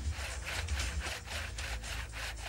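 A hand saw cuts through wood in steady back-and-forth strokes, a close, rasping rhythm of about five strokes that continues without pause.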